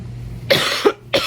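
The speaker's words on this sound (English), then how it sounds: "I'm so sorry for all the coughing." A woman coughs three times in quick, close bursts, each short and harsh, over a faint steady hum.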